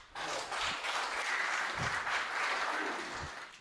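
A live audience at a Hindi comedy poetry show bursts into sustained applause, a dense wash of many hands clapping that holds steady for several seconds, heard alone with no voice over it.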